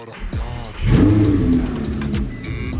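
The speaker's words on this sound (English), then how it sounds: "I'll give you guys a little start right now" An Audi R8 V10 with a six-speed gated manual starts up close by: starter whine, then the engine catches with a loud rising flare of revs and settles into a steady, throbbing idle.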